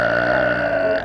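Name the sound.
loud burp in public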